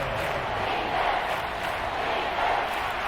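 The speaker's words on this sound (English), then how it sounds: "This crowd doing all they can." A stadium crowd roars in the Madden 25 football game during a Kansas City Chiefs vs. Atlanta Falcons matchup, a steady dense wash of cheering that holds at an even, loud level throughout.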